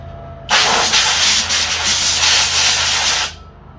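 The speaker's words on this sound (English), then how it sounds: "let me get the air gun and blow off the top of this carburetor, make sure there's no dirt in there." An air gun blows dirt off a lawn mower carburetor in one loud, close, continuous hissing blast lasting about three seconds, with no talking.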